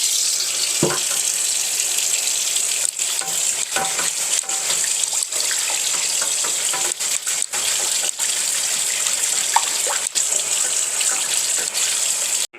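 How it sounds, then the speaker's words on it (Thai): Tap water runs steadily over an iron wok being scrubbed clean after stir-frying, a continuous near rush of water broken by occasional clanks and scraping. "คราวนี้แม่จะล้างอีกรอบนึงค่ะ นี่หลังจากผัดกับข้าวแล้ว ล้างขัดขัดขัด"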